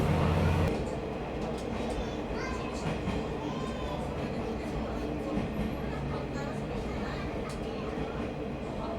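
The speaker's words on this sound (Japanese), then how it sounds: "中島鉄橋では列車は徐行いたしますので" A Takachiho Railway train rolls slowly over the Nakajima iron bridge, a continuous loud rumble with faint rhythmic clatter that stays steady after a brief louder start.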